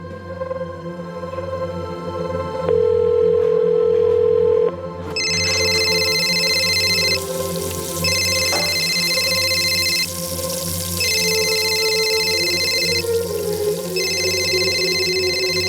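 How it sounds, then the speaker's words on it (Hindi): An electronic phone ringtone trills in repeated bursts of about two seconds with short gaps, loud and close over a steady low hum. "प्लीज फोन उठा लो पायल"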